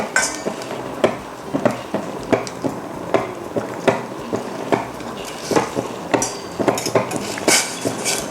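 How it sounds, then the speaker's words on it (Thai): A utensil works coconut cream and massaman curry paste together in a pan on high heat, giving steady repeated metallic scrapes and clinks against the pan at a brisk rhythm, close and fairly loud, with no talking. "สีให้เข้ากันนะคะ ระหว่าง หัวกะทิกับพริกแกงมัสมั่นนะคะ"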